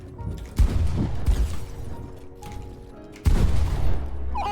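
Gunfire in a box fight video game: two sharp, loud shot bursts roughly three seconds apart, with rumbling game sounds and mechanical clicks in between.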